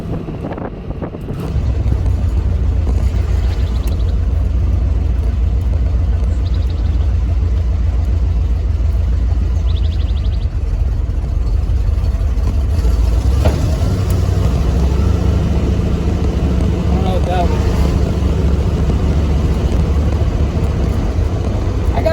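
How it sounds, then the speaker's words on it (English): A 1970 Chevrolet Corvette LT1 barn find runs on the road, its engine a loud, steady low rumble with brief revving swells, blended with wind buffeting the microphone throughout. "I'm just happy I got this car running"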